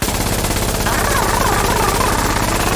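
An M240 machine gun fires in a first-person shooter video game, loud sustained rapid automatic bursts running throughout at close range with no pauses and no talk.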